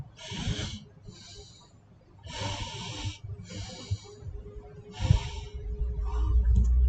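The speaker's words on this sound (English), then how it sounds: "Breathe in and breathe out" Deep, slow breaths drawn in and pushed out through the nose, close by, forming about six breathy bursts in an uneven rhythm against a faint low background hum.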